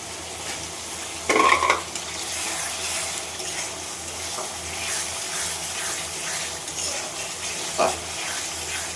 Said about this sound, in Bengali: এখন আমি এর ভিতরে দিয়ে দেবো চিংড়ি মাছ।